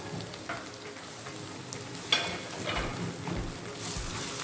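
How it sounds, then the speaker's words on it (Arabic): A vegetable stock cube being broken up and stirred with onion powder, seven-spice and salt in a pan, with a steady close sizzle and a few soft scraping strokes, no voices. "هقلبهم كده مع بعض"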